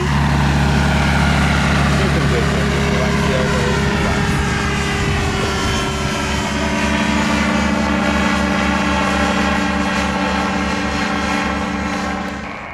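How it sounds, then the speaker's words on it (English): A small propeller airplane in flight during a student's solo flight, a loud, continuous engine drone with steady propeller hum heard close, as from inside or near the aircraft. "And Jim is off on his solo flight, October 23rd, 2023."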